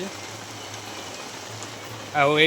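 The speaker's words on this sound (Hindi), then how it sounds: "बाहर प्रबल वर्षा हो" Heavy rain falling outside a home during Ganesh puja, a steady broadband hiss, with a short voiced sound near the end.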